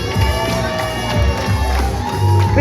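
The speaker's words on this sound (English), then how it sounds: "Big cheers for Paddy. Big cheers for Caleb too." A crowd at a live pro wrestling show in the Queen's Hotel, Dundee, cheers and shouts loudly and continuously, with whoops and children's voices in the mix.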